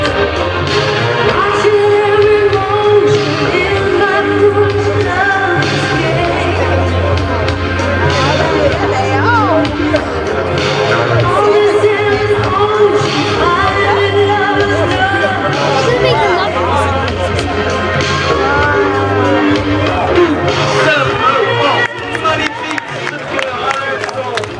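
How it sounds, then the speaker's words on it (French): An air show audience applauds the Patrouille de France, and scattered clapping mixes with steady crowd chatter and babble that continue throughout. "Oui, on peut les applaudir."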